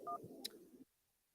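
A call-in show's phone line clicks open with a short telephone dial tone followed by a brief tone burst, close and clear, then the line falls to near silence.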